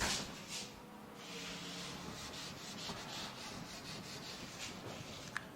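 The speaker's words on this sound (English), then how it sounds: "I need this space, so I'll rub this." Writing rubbed off a board with an eraser, a close continuous scrubbing and rubbing with a faint knock near the end.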